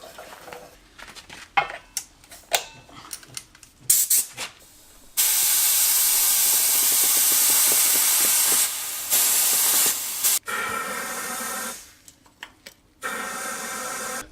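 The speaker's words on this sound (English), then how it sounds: "The air is coming straight out of the back wheel." Air hisses in long loud bursts while a leaking back tire is pumped on an old bike, the sprays broken by clicks and handling noises up close.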